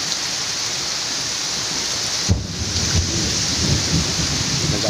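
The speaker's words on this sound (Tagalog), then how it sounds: "Malakas yung ulan." Heavy rain pours steadily with a dull thunder rumble partway through, a dense continuous wash close by with no voices.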